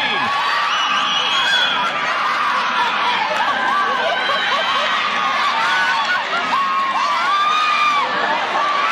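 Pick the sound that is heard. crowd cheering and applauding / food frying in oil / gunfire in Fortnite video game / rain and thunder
crowd cheering and applauding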